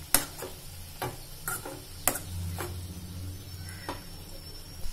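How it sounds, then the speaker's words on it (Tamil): Grated coconut stirred into cooked broad beans in a pan for Tamil avaraikkai poriyal, giving soft scraping strokes and light clicking ticks of a spoon at a steady pace, over a faint low sizzle, with no talking. "ஆட் பண்ணிட்டு நல்லா கலந்து விட்டுக்கோங்க"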